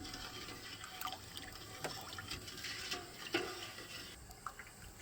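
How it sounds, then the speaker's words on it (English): A spoon stirs sugar into apple juice in a pot, making faint, soft liquid swishing with occasional light clinks against the pot. "I'm just stirring it to get all the sugar dispersed and get the sugar dissolved."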